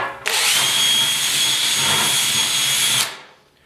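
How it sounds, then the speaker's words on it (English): A small power burring tool fitted with a Scotch-Brite pad spins up on interior parts of a 1956 Ford pickup, a loud high-pitched whine running steadily for about three seconds before stopping abruptly, close to the microphone. "it's a pretty sharp little burring tool here"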